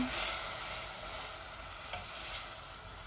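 A large tomato and five olives sizzling in a hot pan for a Bangladeshi sour fish-head curry, a loud, even hiss of frying that stays close and steady throughout.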